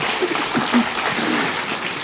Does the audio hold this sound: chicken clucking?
no